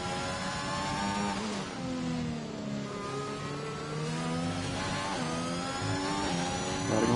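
An F1 race car in F1 2021 heard onboard at the China circuit, its high-pitched engine screaming steadily, the revs falling on downshifts and climbing again as it accelerates, close and continuous.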